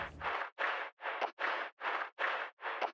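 Resampled footsteps on rocks and gravel, processed into a music element, give eight evenly spaced crunchy bursts of gritty noise in a steady rhythm, fairly faint.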